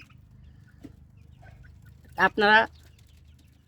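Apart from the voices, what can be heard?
native chickens clucking in cages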